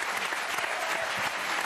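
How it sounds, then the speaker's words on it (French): Audience applause for two famous French singers seated together on a TV show couch, a dense, steady wash of clapping that fills the whole short stretch without any voices over it. "Ça s'applaudit, bravo"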